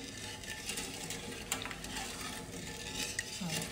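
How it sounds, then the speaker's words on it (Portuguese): A spoon stirs sugar in a pan while making wine sago, scraping and clinking in quick, irregular strokes against the pan, close and clear with no talking. "Mexer bem, misturar bem isso aqui."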